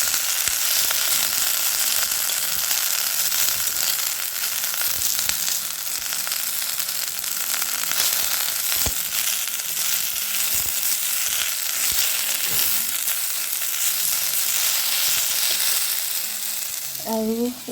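Pumpkin leaves frying in a pan give a steady, close sizzle that runs the whole time, broken now and then by light scraping and stirring, with a brief voice near the end.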